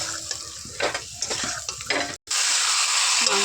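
Potatoes hit a pan of fried spiced masala for biryani, crackling and sizzling while a spoon scrapes and stirs in bursts, then one brief cut gives way to a steady, louder hiss.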